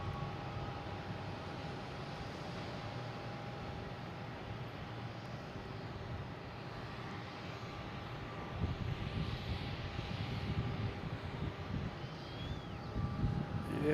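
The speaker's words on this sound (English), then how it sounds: "we have a Delta coming in from LaGuardia" A Delta airliner arriving from LaGuardia at Boston Logan gives off a faint, distant, steady jet roar that swells slightly toward the end.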